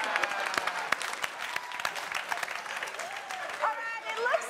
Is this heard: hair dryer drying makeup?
no